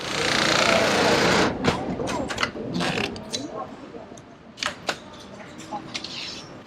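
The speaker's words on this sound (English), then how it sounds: "The bib straps are getting sewn onto the body of the bibs." Industrial sewing machines in an Italian workshop stitch bib straps onto cycling bibshorts, loud rapid mechanical whirring at first, then short bursts of stitching and clicks with workshop clatter.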